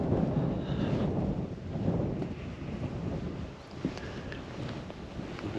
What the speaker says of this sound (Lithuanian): nu tik tai, kad vėjas labai